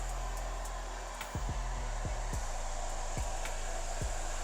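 Handheld hair dryer blowing on wavy hair at medium heat with low airflow, a steady continuous whoosh running throughout, with a few soft clicks or taps partway through.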